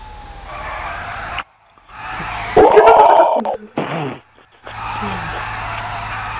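A fire truck siren from Grand Theft Auto Online wails through a busy vehicle scene, with louder bursts in the middle and short gaps of silence, while people talk over it.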